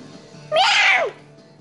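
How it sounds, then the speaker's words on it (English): A single clear cat meow, rising then falling, loud and close, lasting about half a second against a quiet room background. "That was the cat."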